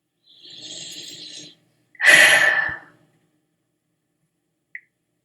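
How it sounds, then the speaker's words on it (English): A big, noisy breath during a guided emotional tapping exercise: a softer airy inhale followed by a louder, rougher exhale, then a tiny click near the end. "Big, noisy breath."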